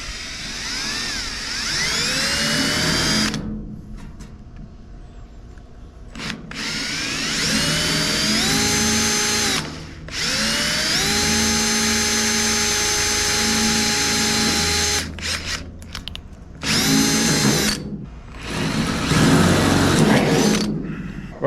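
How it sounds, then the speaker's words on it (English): Power drill boring through the welded hood of a 1971 GMC Jimmy, loud whining bursts with rising pitch as the motor spins up, several separate runs broken by short pauses and clunks. "Let's go ahead and actually start drilling the next one."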